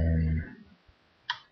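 A single sharp computer mouse click near the end, faint and isolated after a fading voice, while setting up a blog site.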